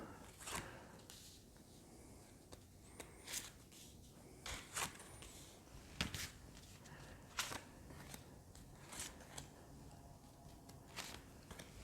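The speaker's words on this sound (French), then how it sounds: "Je vais tirer les 9 cartes d'un coup." Nine tarot cards drawn and laid out at once, a run of soft papery slides, flicks and taps in an irregular rhythm, close and quiet.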